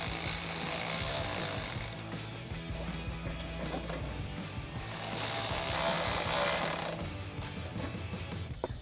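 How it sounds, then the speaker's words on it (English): Mechanical ratcheting and clicking from an 8mm socket tightening a clamp on a Runner HPS Shortram cold air intake, a steady busy texture with two louder bursts of higher hiss, no talk. "take our 8mm socket to tighten it down"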